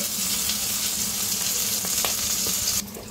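Ingredients frying in a pan for homemade mandi biryani, a loud dense sizzle held steady and close with a few faint stirring clinks, dropping abruptly quieter near the end.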